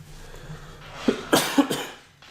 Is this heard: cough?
yes